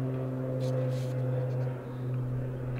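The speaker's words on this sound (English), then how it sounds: "And the sound you can hear in the background now is the ambulance plane," A departing ambulance plane drones steadily in the background with low tonal hum, while someone talks over it nearby.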